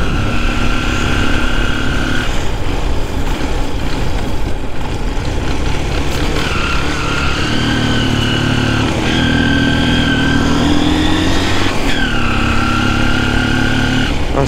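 A motorcycle rides over a rough road, its engine a loud, steady drone up close that rises and falls in pitch as the throttle changes, with no talk.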